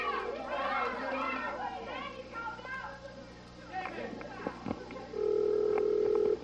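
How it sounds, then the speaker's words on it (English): Children chatter and play, then a steady electronic telephone ring tone sounds near the end. "Well, it's ringing right now, Jimmy."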